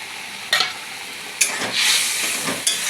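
Mustard paste and eggplant sizzle in a frying pan, giving a steady hiss with a few sharp scraping stirs of a spatula, close and moderately loud.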